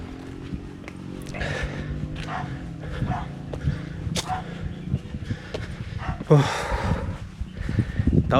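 Dogs barking outdoors along a hiking trail up Penang Hill in Malaysia, sharp irregular barks rising over ambient noise with faint voices in the background, a louder burst near the end.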